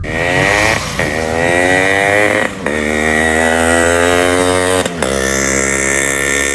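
A tuned two-stroke motorcycle engine revving loud and close, rising and falling in pitch through several throttle blips with brief dips between, alone without talk.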